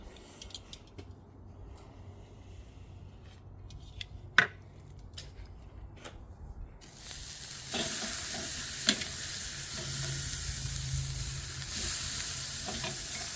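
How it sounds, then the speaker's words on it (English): Pork butt searing in a hot pan: a few quiet handling clicks and a sharp knock first, then a loud, steady close sizzle that swells and holds to the end, with occasional crackles. "And then now we're gonna put in the pork butt."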